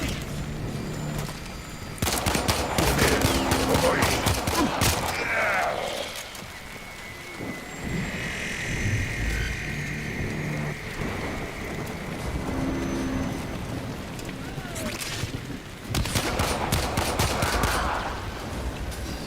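Pistol gunfire in the Warframe video game: bursts of rapid shots in clusters, loud and close, with game ambience and effects filling the gaps between volleys.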